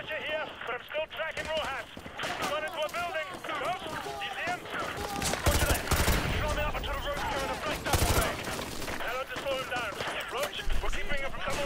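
Gunfire in Call of Duty Modern Warfare 2 Remastered, scattered shots and bursts cracking through a dense mix of game sound and voices, busy and continuous.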